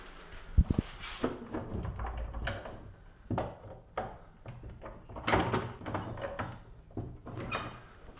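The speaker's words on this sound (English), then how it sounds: "The door appears to be locked." An interior door in an old arts building's grounds, found locked, rattles and thunks repeatedly as its handle is tried, with several wooden knocks and bumps spread irregularly across the clip, fairly close.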